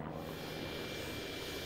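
The propeller engine of a Swedish Saab Safir trainer and liaison plane of the Finnish Air Force drones steadily and loudly throughout, a continuous unbroken roar with no voices.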